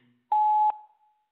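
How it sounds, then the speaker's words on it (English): A single steady electronic voicemail tone sounds for about 0.4 seconds, clean and moderately loud, followed by a brief fading tail and near silence. "At the tone, please record your message."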